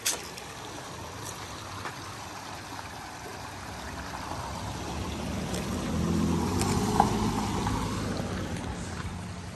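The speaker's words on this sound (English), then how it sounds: "Road noise." A steady low rumble of passing traffic on Route 602 at Trout Creek along the Appalachian Trail, swelling as a vehicle goes by partway through, then easing off slightly.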